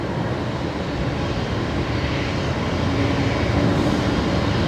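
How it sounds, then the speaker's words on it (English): A Boeing 737 Max 8 jet departing Brisbane Airport at night, a broad steady engine roar filling the air at close-to-mid distance, loud and unbroken, with no talking. "There goes the Max 8 that we were just tearing on the spool up"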